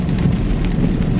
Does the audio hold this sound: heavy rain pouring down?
yes